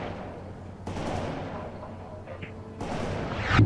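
A Bradley vehicle in the video game World in Conflict opens fire: two sharp, loud bursts of gunfire about two seconds apart, each trailing off into a rumbling echo over low background noise.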